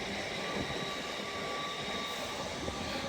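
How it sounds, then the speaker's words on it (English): Class 801 train passing through York station on the East Coast Main Line, bound for London King's Cross from Edinburgh Waverley, a constant broad rumble with faint high whine, no voices. "801-225 bound for London King's Cross from Edinburgh Waverley"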